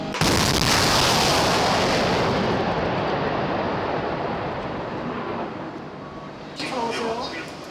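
Powerful missile launch roar, a sustained blast that begins abruptly and slowly fades over several seconds, with a faint rumble returning near the end.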